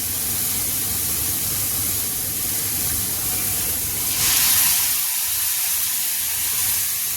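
Tomato paste hitting cooked spices in a hot pan for broccoli kofta curry sets off a loud, steady sizzling spray that swells briefly midway, close and with no voices.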